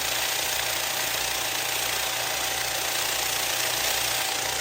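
Vibratory rock tumbler running in slow, gentle polishing mode, a loud, constant mechanical buzz and rattling hum with a steady tone throughout and no pauses or voices.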